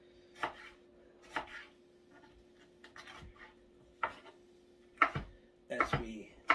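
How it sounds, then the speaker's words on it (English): Knife chopping peppers on a cutting board in a restaurant kitchen: scattered sharp thuds, a few spaced apart then quicker clustered cuts near the end, close-up with a faint background hum and little talk. "as we finish up chopping these last two peppers"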